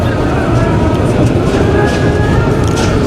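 A crowded platform at Mymensingh Junction, Bangladesh, with a steady wash of station and crowd noise and a train idling nearby, continuous and loud throughout.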